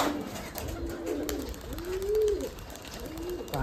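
Giribaj pigeons cooing in a few soft, rolling calls at close range, repeated with short pauses, over faint background noise.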